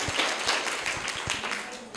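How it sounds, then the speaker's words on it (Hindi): An audience applauds the second-place winner of a girls' competition, a brisk burst of many hands clapping at a steady, lively pace, filling the room without voices. "ठीक है, जोरदार तालियां इनके लिए भी।"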